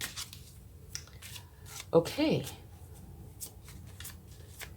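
A deck of tarot cards gets one brief, crisp riffle shuffle at close range, surrounded by quiet room tone and a softly spoken word.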